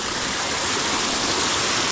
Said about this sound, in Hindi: गाइस यहाँ पे एक झरना देख लीजिए आप, ये वही अंडरग्राउंड झरना है